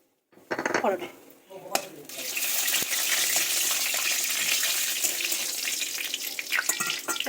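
Whole garam masala and bay leaves hit hot oil in a kadai and burst into a loud, steady sizzle that continues throughout, with a person talking over it at the start.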